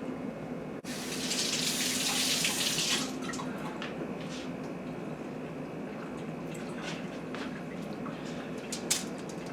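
Tap water runs into a kitchen sink while pork chops are washed, a loud rushing burst for a couple of seconds, then a steadier, softer flow with faint splashes and drips.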